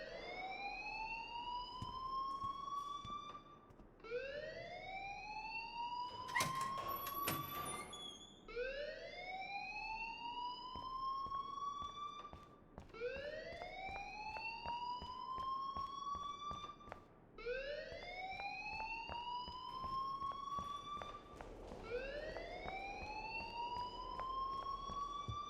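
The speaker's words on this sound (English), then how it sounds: "please turn off that alarm since that's your job" A fire alarm sounds inside the Life is Strange video game, a repeating rising electronic whoop that loops several times in a steady cycle, loud and continuous, with a brief burst of noise partway through.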